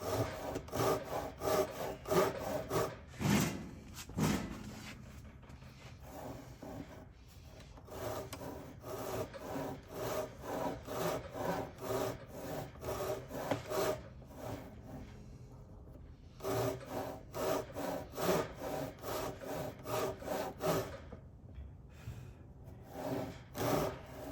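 A hand saw cutting a guitar heel slot into wood, close rhythmic back-and-forth rasping strokes in bursts with short pauses between runs, no voices.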